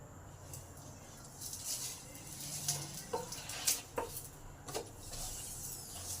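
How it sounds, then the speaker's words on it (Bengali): A paratha stuffed with pointed gourd fries in a pan with a little oil, a soft sizzle broken by scraping and clinking of a spatula against the pan, with several sharp metallic taps close by. "দু সাইডটা ভালো করে ভাজা হলে তারপরেই তেল দেবো"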